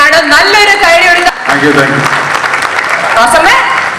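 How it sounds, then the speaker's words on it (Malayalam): Audience applause at a Malayalam film success meet for Chatha Pacha with a film star, a steady dense clapping that runs the full stretch, with voices and music-like tones layered over it. "നല്ലൊരു കൈയടി"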